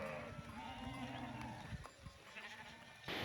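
Several sheep bleat at once in a noisy outdoor setting, overlapping calls rising and falling against a steady background hum.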